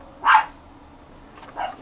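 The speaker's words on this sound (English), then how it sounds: "here's the dog starting to bark" A dog indoors barks twice at moderate distance, a short sharp bark followed by a softer double yap a second later, over a quiet room.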